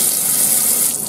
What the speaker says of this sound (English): So this is that single faucet I was telling you about.